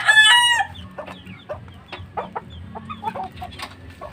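A rooster crows loudly at the start, followed by a series of short, scattered clucks from chickens nearby.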